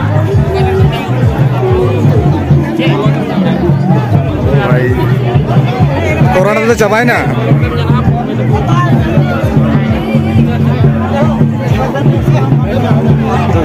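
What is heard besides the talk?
crowd chatter at a village fair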